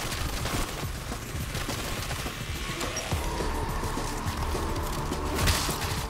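Rapid bursts of gunfire rattle through a zombies video game on the Liberty Falls map, dense overlapping shots and game noise running continuously at moderate loudness.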